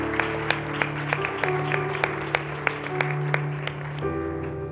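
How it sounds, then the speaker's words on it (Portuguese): A church congregation claps in praise during a worship service, steady applause running under sustained organ or keyboard chords with sharp, regular percussive hits on top. "Aplauda o Senhor Jesus pela vida do Senhor."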